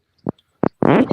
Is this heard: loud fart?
yes